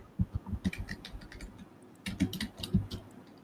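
Keys clack on a typewriter in two quick bursts of uneven strokes separated by a short pause, moderately close and without any talking.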